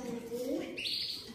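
A canary offered for sale sings in short chirping phrases, close and clear, rising into a higher sustained trill toward the end.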